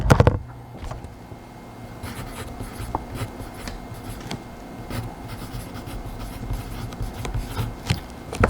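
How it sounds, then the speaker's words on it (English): A pen scratches steadily across paper at close range, with continuous small strokes and scribbles during a solo tabletop role-playing session. No one speaks. "So we're going to have to actually write that down here."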